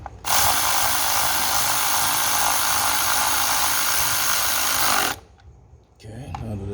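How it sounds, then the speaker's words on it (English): Power tool running on the spark plug coils of a 2015 Lincoln Navigator, a close, loud, continuous whir lasting about five seconds before stopping abruptly, followed by faint handling noise. "Now I'm gonna use the ratchet."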